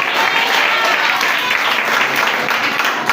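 A Telugu Sunday worship congregation claps in a burst of loud, dense, steady applause, close and unbroken for a few seconds.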